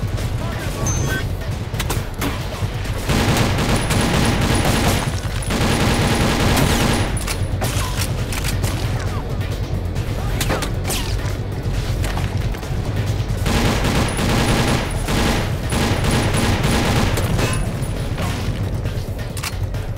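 Loud, dense gunfire fills the first-person shooter game TimeShift, with rapid bursts and heavy booms continuing almost without pause over a long stretch, and a voice faintly underneath.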